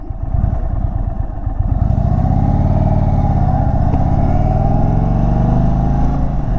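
An Indian touring motorcycle from the 2023 lineup is ridden at speed, its engine a loud, continuous throbbing drone that builds and holds steady with wind noise.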